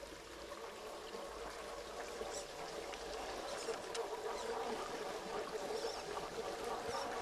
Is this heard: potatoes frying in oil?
no